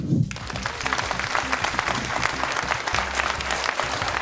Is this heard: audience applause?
yes